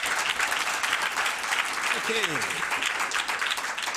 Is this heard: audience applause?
yes